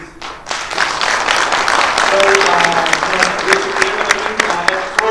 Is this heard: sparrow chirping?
no